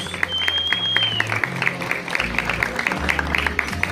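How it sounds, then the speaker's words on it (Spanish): Steady crowd applause fills a school graduation ceremony for ninth grade and the final secondary year as the best graduate is honoured. The dense clapping runs throughout, with a low musical hum and a brief whistle-like tone early on. "Fuerte el aplauso una vez más para Karen Lice de Mesa Ábalos"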